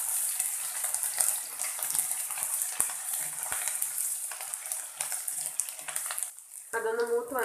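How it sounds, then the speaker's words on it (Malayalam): Garlic and ginger sautéing in oil in a pan, giving a loud, steady sizzle that runs continuously for about six seconds before a brief tonal clatter near the end. "വെളുത്തുള്ളി ഇട്ട് കൊടുക്കാം. അതിൻ്റെ കൂടെ തന്നെ ഇഞ്ചി ഇട്ട് കൊടുത്ത് ഇത് ജസ്റ്റ് ഒന്ന് മൂപ്പിച്ചെടുക്കാം."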